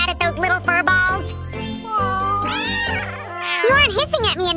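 Several kittens meow in high, drawn-out cries that overlap and rise and fall, fairly close and loud, with a light jingle and some other voices mixed in.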